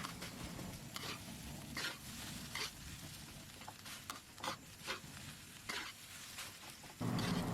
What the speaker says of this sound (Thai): ใส่ลงไปแล้วก็ผัดคลุกให้เข้ากันดีเลยค่ะ ผัดไปจนกระทั่งกะปิเนี่ยเนียนเข้ากันกับข้าวดีเลยนะคะ